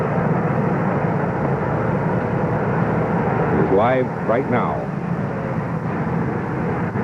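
An Air Force jet, Air Force One, at Andrews Air Force Base in Maryland, gives off a steady, broad engine roar that fills the whole stretch, while someone speaks briefly over it.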